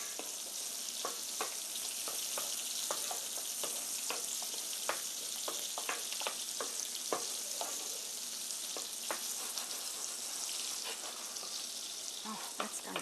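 Food sizzles and crackles steadily in a hot pan on a home cooking show, a loud, dense hiss with frequent sharp pops that continues throughout with no talking.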